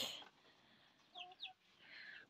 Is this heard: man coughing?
no